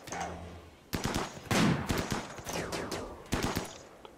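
Sniper gunfire in the video game RimWorld comes as several sharp, separate shots at uneven intervals, each with a short tail, heard alone and fairly quiet.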